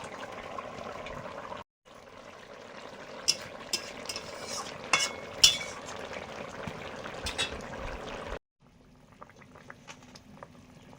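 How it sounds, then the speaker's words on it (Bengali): Fish dropped into a boiling fish curry, bubbling simmer with splashes and sharp clinks of stirring, brief silent gaps between takes. "ঝোল ফুটে গেছে, মাছগুলো দিয়ে দিচ্ছি"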